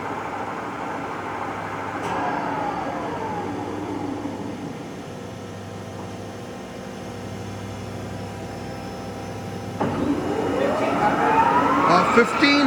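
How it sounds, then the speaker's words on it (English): A Monarch 20 by 80 inch engine lathe spindle spins at its maximum 1500 RPM, a quiet steady machine hum with a faint tonal whine rising and falling as the speed changes, and a brief swell near the end. "The spindle is super quiet, 1500 RPM."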